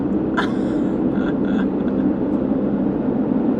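Airbus H130 helicopter on a sightseeing flight over Seattle, heard from inside the cabin as a steady, loud droning rotor and engine hum that runs throughout, with faint brief voices near the start.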